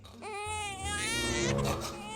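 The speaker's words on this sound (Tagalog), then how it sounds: "Baby, stop crying na." A baby cries steadily at close range in a high, wailing voice that rises and strains without a break.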